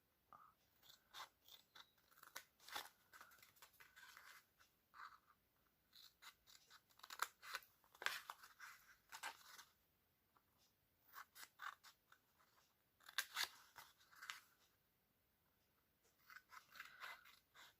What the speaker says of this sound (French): avec les ciseaux, vous allez retirer les 4 coins qui ne vous servent pas